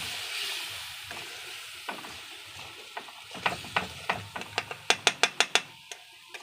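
Spices cooked down in a pan with a splash of water, giving a soft sizzle that ends in a run of sharp, evenly spaced clicks and scrapes as a spoon stirs and taps against the metal, close and loud.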